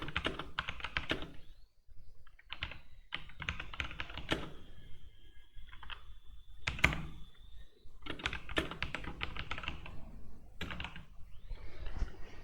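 Fast typing of code on a computer keyboard, close and crisp key clicks in quick bursts with brief pauses between runs, no voice over it.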